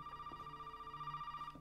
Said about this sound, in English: Where's that phone?